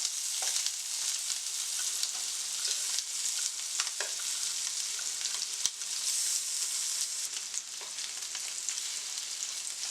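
Salmon bites for a honey Cajun glaze frying in olive oil, a constant close, bright sizzle with scattered small pops and one sharp click, no voices.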